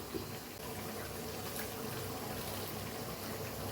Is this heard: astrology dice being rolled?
no